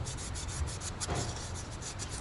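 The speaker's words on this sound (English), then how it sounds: "I'm just sanding it to get off any" Close, continuous scratchy rubbing of sandpaper worked back and forth by hand over a metal engine part, a VW Audi 2.0L TFSI engine's, to remove debris, steady and even throughout.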